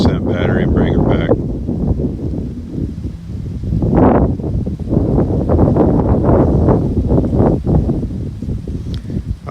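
Strong wind gusts buffet a DJI Mavic Mini drone outdoors, a loud, continuous roar of wind noise that swells and rushes throughout with no clear break.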